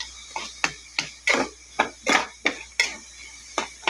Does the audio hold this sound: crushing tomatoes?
yes